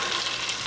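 Onions frying in a pan as the base for Nigerian jollof rice, a steady, close broadband sizzle with faint stirring, continuous and unbroken through the short moment with no voices.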